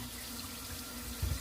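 Tap water runs steadily into a kitchen sink with a garbage disposal, a soft continuous stream at low level, ending in a short low thump.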